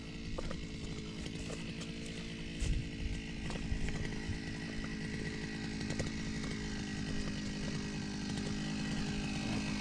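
Small two-stroke grass cutter engine running steadily outdoors, a continuous buzzing drone at moderate distance with a few brief louder bumps.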